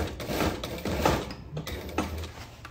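A sewing machine stitches the side seam of a vest in a home sewing setting, running in bursts of rapid mechanical clatter with short pauses between runs, fairly close and steady.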